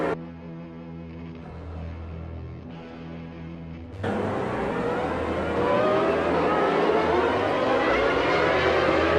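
Formula 1 cars roaring away from the 1994 season race start, a muffled engine drone that suddenly swells into a loud, bright, rising multi-engine howl as the field accelerates.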